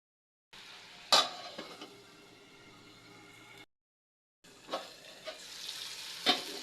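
Spice paste for a Bengali chicken curry fries in a pan with a soft continuous sizzle. Sharp scrapes and clinks come from a spoon stirring it. The frying is close, breaks off briefly, then resumes with more stirring.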